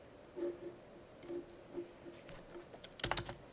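Scattered keyboard taps come in sparse, soft bursts at close range over a faint hum, ending in a quick, louder flurry of clicks.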